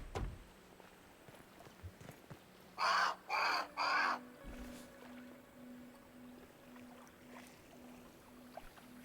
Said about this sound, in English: You are a big bird.